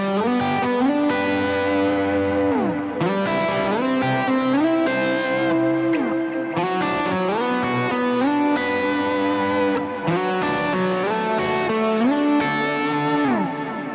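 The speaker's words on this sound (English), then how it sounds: "I'm going to get diads that sound like this." Electric guitar with heavy distortion and effects playing two-note diad voicings of the kind used in worship music, sustained chords shifting steadily in a loud, continuous line with no talking.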